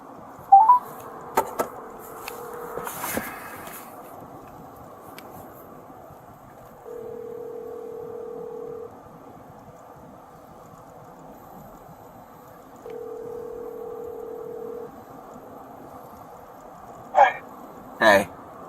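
Telephone line tones sound during a call from a police vehicle, three long steady beeps spaced several seconds apart over a quiet hum, with a few faint clicks and knocks.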